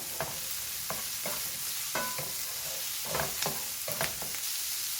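Onions, carrots and celery sizzle quietly in a pan while a utensil stirs and scrapes in irregular strokes, a soft constant frying hiss beneath the scraping, with no talk.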